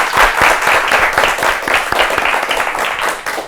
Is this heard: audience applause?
yes